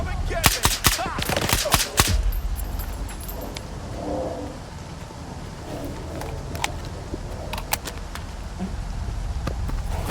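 Rapid gunfire rattles through a firefight in Stalker 2, a dense burst of close shots at the start, then scattered single cracks over a murky ambient background.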